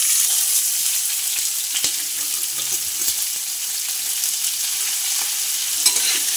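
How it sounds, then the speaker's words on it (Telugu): Onions frying with curry leaves in hot tempering oil for an aloo curry: loud, steady hissing sizzle filling the whole stretch, with occasional faint taps and scrapes of a spoon in the pan. "ఇది ఇప్పుడు బాగా ఫ్రై చేసుకోవాలి. దీంట్లోకి కరివేపాకు యాడ్ చేసుకోవాలి."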